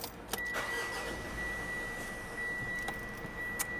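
A manual 2025 facelifted Mitsubishi Montero Sport starts up in neutral with the clutch pressed, then settles into a steady idle close to the microphone. A few sharp clicks come through the engine noise.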